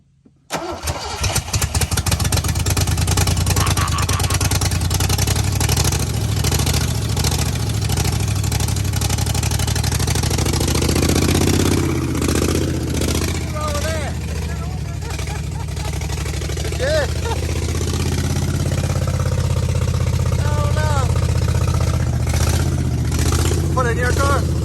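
An old, rusty Fox body Ford Mustang engine cranks, catches and roars into a rough, loud running idle that carries on steadily, heard close while people talk over it.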